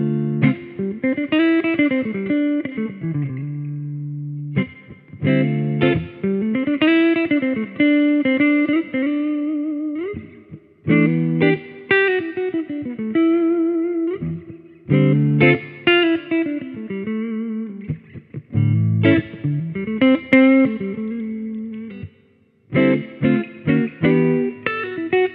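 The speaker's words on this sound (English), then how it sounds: "Let's see how this guitar sounds. I'm going to run it through my Fender 65 Deluxe Reverb with a stock speaker." Electric guitar played clean through a Fender 65 Deluxe Reverb amp with its stock speaker, close-miked with an SM57 and no added effects; strummed chords and picked phrases ring out loudly in bursts with brief pauses between them.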